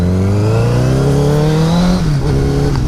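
A motorcycle ridden on a rural gravel country road gives a loud, close engine drone that climbs steadily in pitch, then dips briefly as the throttle eases before holding on.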